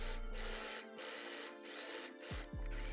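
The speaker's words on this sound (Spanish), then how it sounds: "Cosemos la marca superior a 5 centímetros del borde" A sewing machine stitches the side seam of a handmade fabric bag, its motor whirring steadily in close, even runs broken by short pauses, with no talking.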